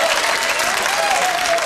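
A studio audience at a 1987 Channel Four live comedy show breaks into dense, loud, sustained applause that continues without a break, with no speech over it.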